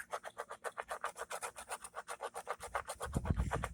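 Wax scraping on a skateboard in rapid, rhythmic strokes, close and steady, about six per second, with a low rumble of handling noise joining near the end.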